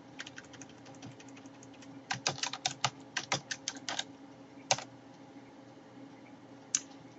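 Computer keyboard typing in short bursts of quick, crisp key clicks, a volume label being entered, with a few isolated keystrokes near the end; close and fairly quiet over a faint steady hum.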